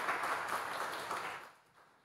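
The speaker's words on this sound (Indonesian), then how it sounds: "Boleh tepuk tangan sekali lagi yang meriah untuk Kak Aditya." Applause from an audience at a seminar on decentralized technology, a steady wash of many hands clapping that fades out over about two seconds.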